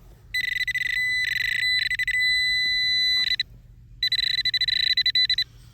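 Nokta Legend metal detector giving its signal beeps outdoors at night: several loud, clear electronic tones in bursts, a long held tone, a pause, then another run of rapid repeated beeps, with no talking.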